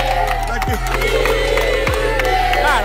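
A crowd of students cheering and shouting during a school exercise challenge, a loud, dense wall of overlapping voices that holds steady throughout.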